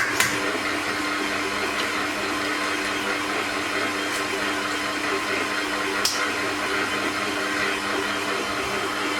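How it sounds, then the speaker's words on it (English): A Kenwood stand mixer runs steadily, beating devil's food cake batter with egg in a home kitchen, giving a loud, even motor whir with a few faint clinks throughout. "that can start mixing while I crack my other egg."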